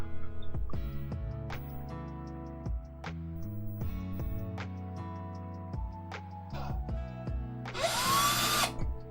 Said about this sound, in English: And just get a drill with a small drill bit.